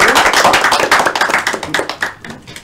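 Classroom audience clapping during a microteaching session, a brisk burst of close, loud hand claps from a small group that thins out and fades toward the end, with no voices.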